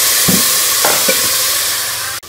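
Bottle gourd and cardamom fry in hot ghee with a steady sizzle, while a spoon scrapes through the pan in three distinct stirring strokes before the sound cuts off.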